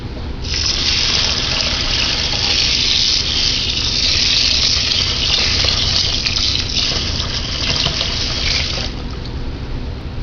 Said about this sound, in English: Next, I'm going to add some good quality water.